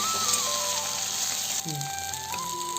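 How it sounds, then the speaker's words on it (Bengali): Boiled gathi kochu (taro) pieces fry in a pan with a steady sizzle that runs beneath a speaking voice. "এবার কাটি কুচিটাকেও ভালো করে ভাজা করে নেব"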